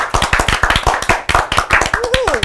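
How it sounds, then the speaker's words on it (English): Audience applause for a stand-up comedian on a TV show, sharp, close hand claps in quick uneven rhythm from a small crowd, with a voice calling out near the end. "Let's give a nice big round of applause to Manny Arias."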